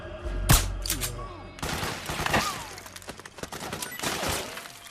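Gunfire in the video game Metal Gear Solid 4: a loud close shot followed by rapid bursts of automatic fire and clattering impacts, coming in waves with brief lulls between them.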